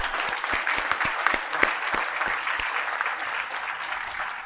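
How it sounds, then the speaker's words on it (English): Audience applause at an international conference, a steady dense wash of many hands clapping throughout, with a few sharper individual claps standing out near the front. "A big clap to Rama Devi Garu."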